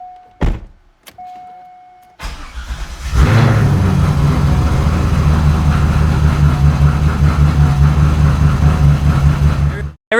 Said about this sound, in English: this thing has a pretty rowdy cold start, so we'll get you a cold start clip